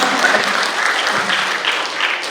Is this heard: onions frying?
no